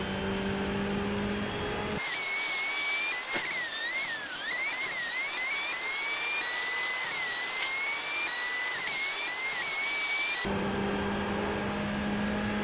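A Ferrari Challenge race car at Willow Springs drives past, its engine holding a loud, steady high-pitched note with wavering pitch as it shifts and turns, framed by a louder, rougher engine drone at the start and end.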